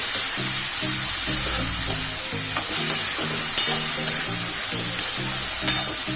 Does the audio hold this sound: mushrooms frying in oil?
yes